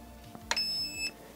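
A short electronic beep sounds twice in quick succession from an Arcturus ATK9T PP19-01 Vityaz airsoft gun, thin and tonal, against a quiet background with a faint click beforehand.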